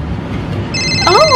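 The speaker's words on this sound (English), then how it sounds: "that's my phone. I wonder who that could be." A telephone rings with bright warbling electronic tones that start partway through, over a busy background of household noise and a brief spoken exclamation.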